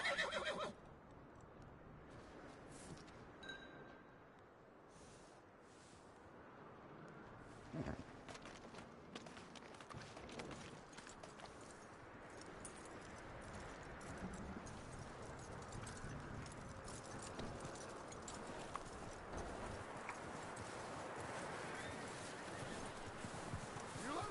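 A horse whinnies and snorts amid steady hoof clops and rustling outdoor ambience in the video game Red Dead Redemption, with a voice speaking quietly at times.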